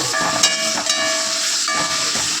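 Tomato hits hot masala in a pan and sizzles with a loud, continuous steamy hiss over a couple of seconds, close up and with no voices.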